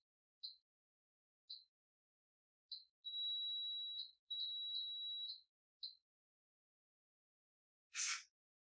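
Cerberus PRO fire alarm devices in test mode emit short, evenly spaced electronic beeps with a couple of sustained tones between them, then a brief burst of broadband noise at the end, clear and alone.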